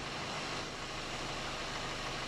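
A car engine runs at a steady idle just after an oil fill at a repair shop, following front shock absorber work. The broad low rumble is constant and fairly close, with no talk.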